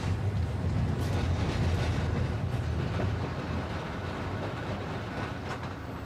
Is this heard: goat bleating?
no